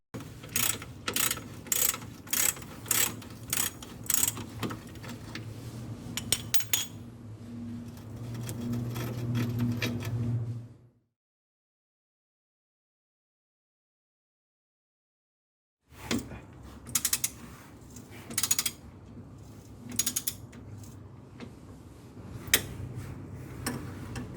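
Ratchet wrench loosening the steering rack bolts on a BMW E30 subframe, fast rhythmic clicking bursts close by, broken by a few seconds of silence before the ratcheting resumes, with no talk.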